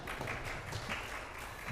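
Audience applause at a live event, a steady wash of many hands clapping, moderately loud and continuous through the short stretch with no other sounds on top.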